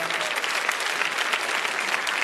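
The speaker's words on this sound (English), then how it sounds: "So big round of applause." Audience at a Filmfare awards ceremony applauding the child performers of Slumdog Millionaire: a dense, even wash of crowd clapping filling the whole brief stretch.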